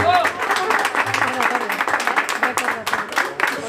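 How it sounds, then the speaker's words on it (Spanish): An audience at a birthday party gives a mariachi band a round of applause, clapping loudly and irregularly at close range with voices calling out over it. "se ve que el mariachi se merece un aplauso"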